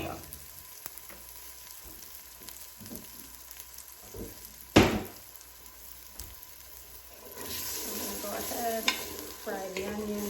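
Onions fry in about a tablespoon of oil for Ethiopian collard greens with potatoes. A soft sizzle sits under scattered stirring scrapes, with one sharp clatter midway and louder, fuller frying toward the end.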